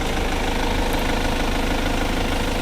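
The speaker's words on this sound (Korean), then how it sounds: "엔진 소리 일정합니다" A BMW X3 xDrive 20d diesel engine idles steadily at a constant low hum, loud and close, with no voices.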